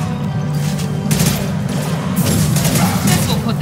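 Gunfire in the sci-fi shooter Mass Effect 2 comes in repeated bursts over a constant low battle rumble, loud and fairly close, with shots clustering in rapid volleys.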